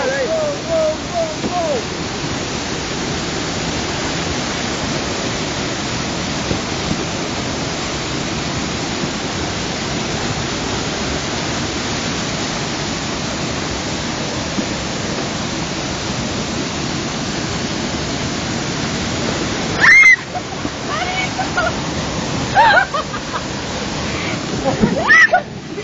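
A waterfall pours as a broad, steady roar of rushing water throughout, loud and close, with splashing bursts near the end and people's voices faintly mixed in.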